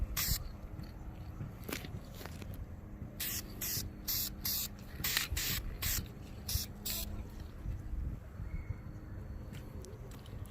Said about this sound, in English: So basically, I'm just gonna take it and I'm gonna spray it.